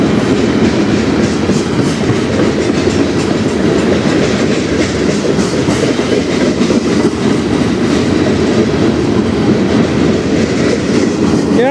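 A freight train rolls steadily past on the Strathroy Subdivision near Sarnia, its railcars clattering continuously over the rails in a loud, close, unbroken rumble with rhythmic clickety-clack throughout.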